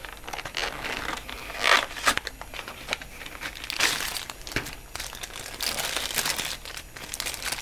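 Crumpled packaging from a PINE64 media computer crinkles and rustles as hands dig through it, bursts of crackling plastic and paper rising and falling over several seconds, close up and with no talk.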